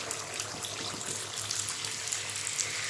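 Neyyappam batter hits hot oil on a medium flame, giving a dense, continuous hissing sizzle with small crackles, steady and fairly close, with no talking.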